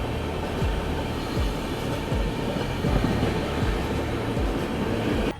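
Shram Shakti Express running on a parallel track past a stationary or slow passenger train near Pandit Deen Dayal Upadhyaya station, a continuous close rumble with rhythmic clickety-clack wheel beats on rail joints.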